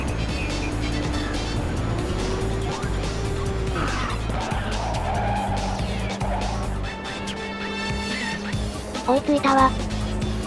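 A race car in Ridge Racers 2 on a night course drifting with nitro, a loud sustained engine whine shifting pitch with tire squeal and skidding toward the end, while a synthetic voice talks over it.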